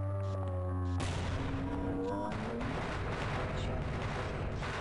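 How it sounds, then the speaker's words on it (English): A grenade blast in the video game Half-Life breaks in after a short stretch of music, a sudden loud broadband explosion that stays up as a dense, roaring rumble to the end. "Throw a grenade at it."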